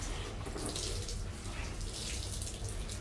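A wet microfiber towel is wrung out by hand, giving a steady watery trickle and drip of water that runs continuously and fairly close.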